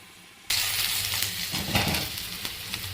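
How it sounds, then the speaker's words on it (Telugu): Onions for carrot curry hit a hot pan and burst into loud, steady sizzling and hissing, with a few sharper crackles and pops scattered through the frying. "చూడండి ఆనియన్స్ ఇలా మగ్గుతున్నాయి"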